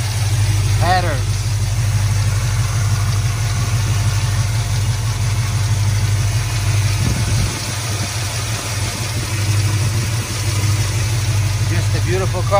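A 1967 Dodge Coronet 440 R/T clone's big block 440 engine with two four-barrel carburetors and headers idles loudly with a steady, deep lumpy rumble throughout, dipping slightly midway before settling back.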